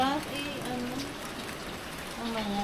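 Heavy rain falls in a steady, dense hiss of drops on surfaces, continuous and fairly close, with faint voices mixed in.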